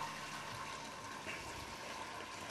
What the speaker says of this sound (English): And we're going to come over here and pour this soup very slowly.